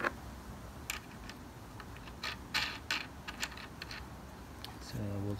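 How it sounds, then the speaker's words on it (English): A wing nut is twisted down onto a bolt while assembling a biltong air dryer, giving soft scattered creaks and metallic clicks close by, ending in a brief low hum. "So we'll just tighten it, which will pull the bolt in."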